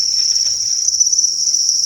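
Honey crickets in a breeding enclosure chirp in a continuous high, shrill trill, close and loud, with no voices.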